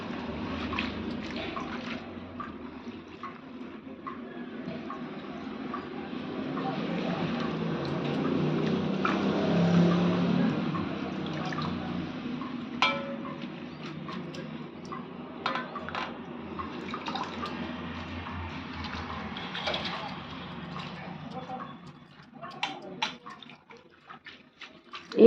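Amaranth leaves, soaked in salted water, being washed and the water drained off, a steady moderately loud splashing and pouring wash of water with occasional sharp knocks, fading quieter near the end.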